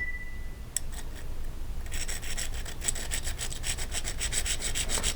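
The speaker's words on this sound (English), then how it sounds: "By running our diamond file back and forth over those little nibs or feet." A water-soaked diamond file rasps back and forth over the small nibs on a glass enamel piece in a steady, close scraping rhythm, with no voices.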